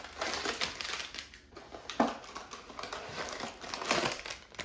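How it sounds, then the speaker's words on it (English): Crinkly plastic wrapping of a Trader Joe's frozen chocolate lava cake package being opened, a steady run of rustling and crackling with a few sharper tearing snaps, close and alone. "So let's open up the package"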